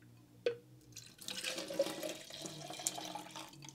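Red hummingbird nectar concentrate poured from a bottle into the bottom of a feeder, a soft trickling liquid splash at close range after a brief knock, running steadily for a few seconds with no talk.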